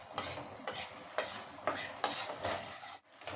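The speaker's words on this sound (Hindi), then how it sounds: "एबे आमे पियाजर पेस्ट को 2-3 मिनट फ्राए करवा।" Onion paste frying and being stirred in a pan while cooking Odia fish masala fry: repeated scraping and clinking strokes of a spoon against the pan over a soft sizzle, close and fairly quiet, with no talk.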